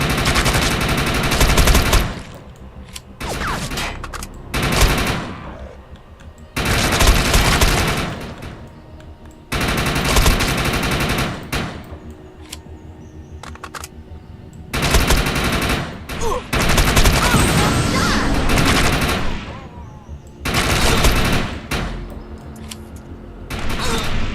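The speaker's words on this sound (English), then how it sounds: "it takes him a second to shoot me, but it takes me forever to shoot them" Loud video game gunfire from Defiance in several long automatic bursts separated by short pauses, each burst a dense rattle lasting a few seconds, with little else between them.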